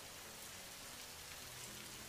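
Heavy rain pours down in a Hindi cartoon scene as a woman bangs on a house door. The rain is a dense, constant hiss with no pauses.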